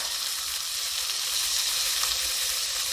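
Beef browning in a frying pan, a steady close crackling sizzle with bright hissing, continuous and without voices.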